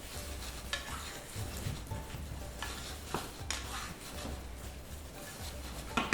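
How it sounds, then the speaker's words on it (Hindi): Stuffed bitter gourd is stirred with dry spice masala in a frying pan, a steady oily sizzle running under repeated scraping strokes of a spoon, close and continuous with no talk. "ये जब डालेंगे तो जल्दी से मिक्स करना है क्योंकि मसाला वरना जल जाएगा"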